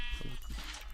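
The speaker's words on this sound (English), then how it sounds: "Sheep, yes." A Minecraft sheep lets out a single short bleat, close and fairly loud, against a steady low background hum.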